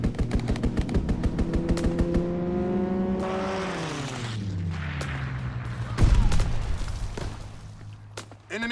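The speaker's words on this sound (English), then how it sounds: "Strafing run inbound." A strafing run in Call of Duty: WWII, with a rapid chain of loud gun bursts at the start, then a plane's engine drone sweeping downward in pitch as it passes, and a heavy impact near the end.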